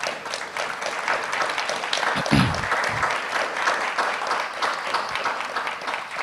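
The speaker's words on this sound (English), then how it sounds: "I think that's worthy of a round of applause as well" Audience applause at an afternoon plenary session of a conference, a steady broadband wash of many hands clapping for the full stretch, with a brief low voice murmur partway through.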